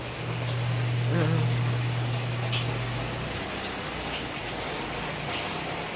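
Rain falling steadily on a small mini garden outdoors, a soft continuous patter and hiss of drops, with a low hum briefly underneath at the start.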